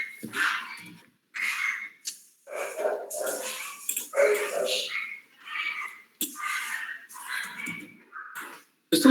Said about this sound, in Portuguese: Vocês estão ouvindo meu cachorro brigando ali?